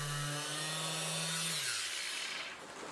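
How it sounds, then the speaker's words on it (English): A power sander working over a rusty scrap-metal welding table gives a loud, steady mechanical whine that drops in pitch and winds down near the end, heard close with no voices. "Then I finished the job with a sander."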